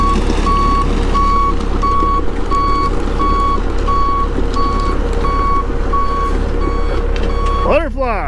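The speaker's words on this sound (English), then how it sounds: "we're having these trucks back in right to the edge of the rock dump" Dump trucks back up to the edge of a rock dump with wet dirt, their reversing alarm beeping in an even, regular rhythm over a low diesel engine rumble, with a short squeal just before the end.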